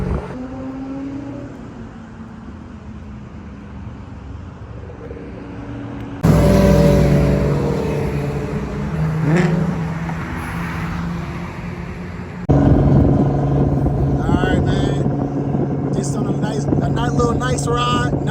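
A Nissan GTR drives at night alongside a Corvette C6 after a car meet, its steady engine and road rumble continuous and fairly loud, swelling in abrupt steps as the car accelerates.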